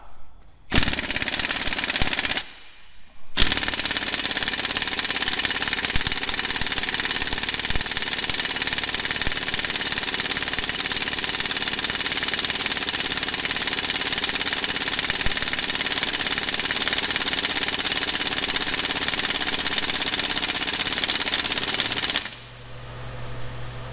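A Harbor Freight air impact wrench at 90 psi hammers on a bolt in a loud, steady rattling burst after two short starts, running for about twenty seconds before cutting out.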